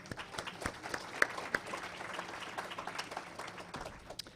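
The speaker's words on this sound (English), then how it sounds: "let's give all those sponsors and everybody that's involved with our operations a round of applause" Audience at an event applauding sponsors, a steady round of moderate clapping from a seated crowd, somewhat distant and even throughout.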